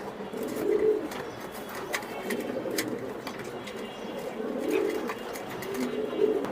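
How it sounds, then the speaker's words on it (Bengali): Black pigeons at a pigeon farm in Mirpur, Dhaka, coo repeatedly in soft, low, rolling phrases, with faint chirps and rustling in the background. "দেন ব্ল্যাক একদম কুচকুচে ব্ল্যাক দুটোটা কবুতর।"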